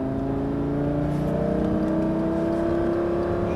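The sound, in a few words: Lamborghini engine accelerating on a race circuit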